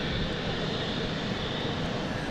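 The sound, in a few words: KLM Embraer jet aircraft at London City Airport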